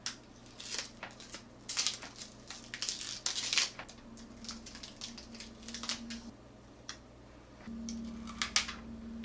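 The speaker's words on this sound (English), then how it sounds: "let's take the plastic off everything" Crinkly plastic wrap being peeled and torn off new Logitech Z323 computer speakers, a run of close, irregular rustles and crackles with a low steady hum underneath.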